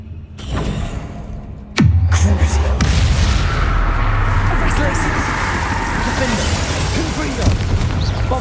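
The Bombarda explosion spell in the PC game Hogwarts Legacy goes off as a sharp, loud blast after a brief lighter sound, then rolls into a deep, sustained rumble that lingers to the end.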